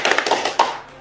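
A short burst of a few scattered hand claps from an audience at a religious lecture, lasting about a second with no talk over it.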